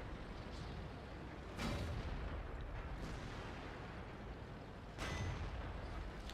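Two heavy tank cannon shots from an IS-6 in World of Tanks, roughly three seconds apart, each a loud booming blast over a constant low engine rumble.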